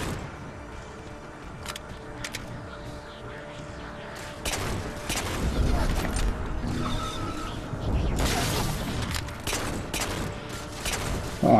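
Plasma pistol fire in the Halo 4 campaign: sharp, broadband energy shots in scattered bursts over a steady mechanical game hum, growing louder and denser in the second half.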